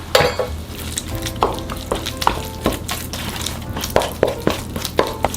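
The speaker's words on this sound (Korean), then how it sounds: "이렇게 해서 나머지 양념을 잘 섞이도록 먼저 버무릴게요" Rapeseed greens seasoning of garlic, plum syrup and sesame oil tossed together in a bowl, heard as a steady run of wet clicks and utensil taps against the bowl, close and moderately loud.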